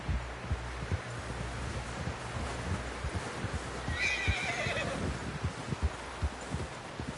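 A horse in a video game snorts and whinnies over rhythmic hoofbeats, the neigh rising clearly midway, with steady clip-clop thuds and background game ambience.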